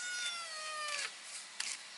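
A small cat, apparently in distress after being in water, gives a long drawn-out meow that falls in pitch, then two shorter, harsher cries. The calls are close and fairly loud, with no talking.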